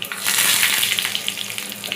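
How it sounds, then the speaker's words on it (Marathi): Tempering hitting green coconut chutney, a loud, steady crackling sizzle with bursts of spattering pops throughout, close and without talk. "आता आपण इकडे जी आपली हिरवी चटणी आहे खोबऱ्याची, तिला तडका मारूया मस्तपैकी."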